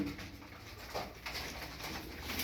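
Game pigeons coo softly and faintly at close range, a low murmuring burble with no voices over it.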